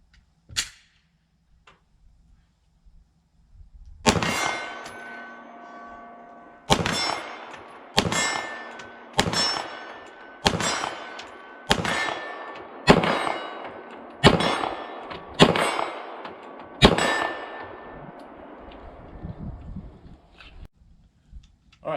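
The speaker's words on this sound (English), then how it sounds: "All right, let's take some shots at our 25-yard plate out there." Sig Sauer P320 X-VTAC pistol firing at a steel plate target 25 yards out, about ten evenly spaced shots, each followed by a bright metallic ring from the struck plate, heard outdoors with no talking.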